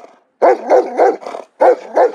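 Dogs in the Serbian village of Sremski Karlovci bark loudly and close by, about five or six hoarse barks in a steady rhythm with short gaps between them. No one speaks.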